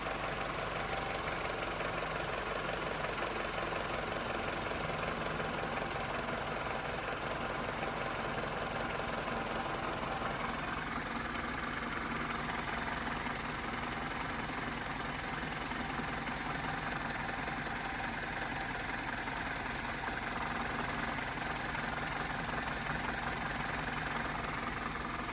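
A warm car engine idles steadily with the air conditioning switched on, a constant low hum and hiss while A/C R134 service valves are open, with no talk and no change throughout.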